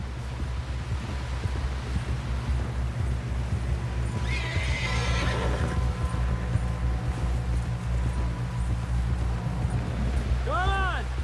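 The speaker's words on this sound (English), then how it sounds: "Someone help John down off this horse." Horse neighs and hooves clip-clop in a snowy scene from the video game Red Dead Redemption 2, a whinny rising midway and another near the end over a steady low rumble of game ambience and music.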